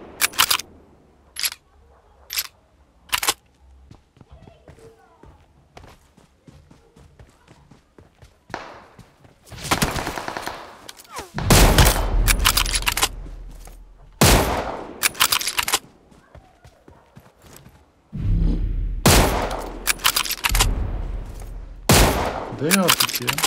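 Gunfire in the PUBG Mobile video game, with sparse single shots early on and then dense, loud bursts of rapid automatic fire, heard alongside occasional game sounds.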